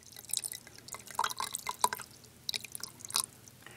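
Water trickles and drips into a newt habitat tank in a string of quiet, close splashes and droplets, with a few brighter splats standing out and no talking.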